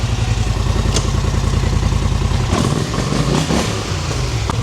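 A quad bike (ATV) engine runs steadily after repair, with a replaced part, loud and close with a constant low rumble that changes tone partway through with some mechanical clatter.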